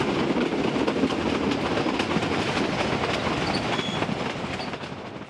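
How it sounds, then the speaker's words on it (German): A train on the line from Cusco to Aguas Calientes, Peru, rumbles steadily with clickety-clack wheels on the rails and faint squeals, heard from inside and easing slightly toward the end. "Von Cusco aus fahren wir mit der Bahn nach Aguas Calientes"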